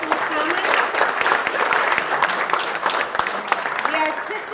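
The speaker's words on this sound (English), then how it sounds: "So give Thomas a round of applause." An audience at a juried art competition claps for an award winner, sustained crisp applause throughout at fairly loud level, with voices mixed in beneath the clapping.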